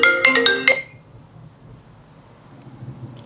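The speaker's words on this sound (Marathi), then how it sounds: "मला फोन आला." Phone ringtone for an incoming call, a bright melodic tone ringing clearly for under a second before cutting off, leaving a quiet room hum.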